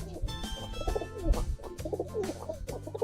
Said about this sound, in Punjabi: ਆ ਗਈਆਂ ਆਪਣੀਆਂ ਦੋਵੇਂ ਕਬੂਤਰੀਆਂ